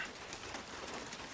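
Rain falls on a roof in a film scene: a steady, soft hiss of dense drops that runs evenly throughout, quiet and alone with no voices.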